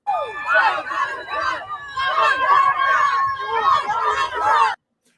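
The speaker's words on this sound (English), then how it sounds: "Right now, they're chanting, "Fuck Donald Trump,"" A rally crowd chants in unison at a liberal gathering, a loud, dense wall of many voices rising and falling in steady waves, with no gaps, before cutting off abruptly.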